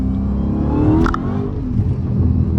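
A Dodge WideBody Hellcat engine rumbles low and heavy, swelling into a short rev near the middle with a brief sharp click, then settling back to a steady throaty idle, close and loud.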